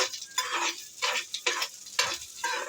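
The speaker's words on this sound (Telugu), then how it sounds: "కొంచెం లైట్గా ఫ్రై చేసుకొని" Vegetables frying lightly in oil in a pan, a soft crackling sizzle rising and falling in short bursts, as if stirred, close by with no talk.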